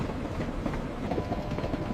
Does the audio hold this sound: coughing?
no